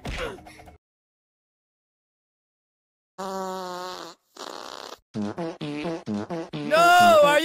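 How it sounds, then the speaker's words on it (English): Musical, pitched farting noises come in a quick run of short bursts after a long silence, several tonal squeaks stepping through a tune, near and fairly loud. "Will you stop farting around and making it sound musical?"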